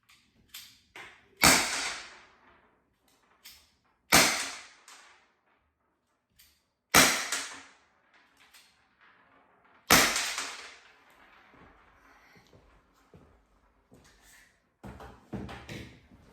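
A Byrna CL less-lethal launcher fires four sharp, loud shots a few seconds apart, each cracking with a short ringing tail. Softer clicks and handling noises follow between the shots.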